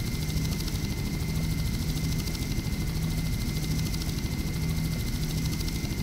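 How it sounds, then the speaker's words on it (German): A helicopter in the video game Just Cause, heard from the cockpit: a loud, steady engine drone with rapid, even rotor chop, constant and unbroken throughout, with no voices. "Also jetzt habe ich einen Heli, ist immer gut."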